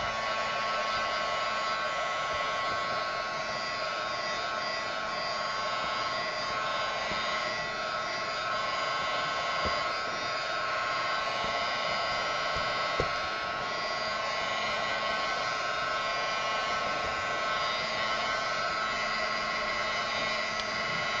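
A hair dryer blows steadily on a mixed media canvas, a continuous close whooshing hum that stays even for the whole stretch. It has one or two faint clicks and no talk.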